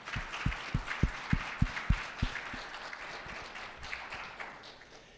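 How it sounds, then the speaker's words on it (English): An audience at a Rotary meeting claps in a short burst of applause, with sharp individual claps early on that thin into scattered, fading clapping. "Big round of applause."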